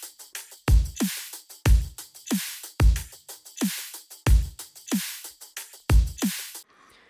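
Drum loop built from layered Cashmere and Leviathan kicks, snares and percussion, with a punchy booming kick landing about once a second, crisp snares and busy clicking percussion between hits, playing alone.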